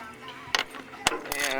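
Wrench clicking as it tightens a bolt on a 2006 Chevrolet Uplander headlight, a few short ratcheting clicks close up over faint background sound.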